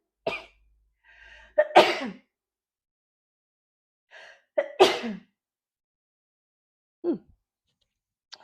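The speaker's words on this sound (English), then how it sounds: "I'm about to sneeze" A single sharp sneeze with a quick breath before it, followed by a few soft sniffs and small noises in an otherwise quiet space.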